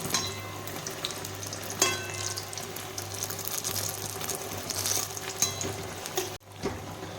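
Eggplant fries in plenty of oil in a wok, a steady moderate sizzle with occasional sharp spatters and a brief stir near the end, no voices.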